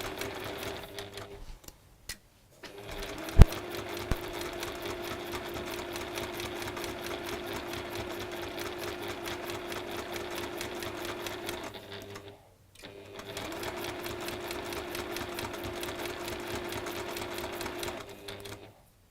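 A sewing machine stitches quilting fabric at a small stitch length in fast, even runs of rapid mechanical clatter, pausing briefly twice with a couple of sharp clicks between runs, heard close and alone.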